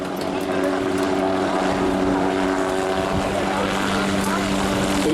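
A Guardia di Finanza helicopter at the Jesolo European Air Show 2017 gives a steady loud rotor and turbine drone throughout, with a voice talking over it.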